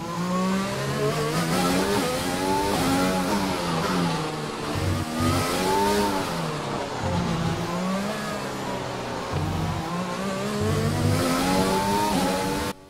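Formula 1 car engine in the F1 2020 video game on a qualifying flying lap, roaring loudly and continuously with rising and falling revs through gear changes and corners, no talking.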